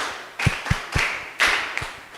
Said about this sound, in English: Can you clap for myself?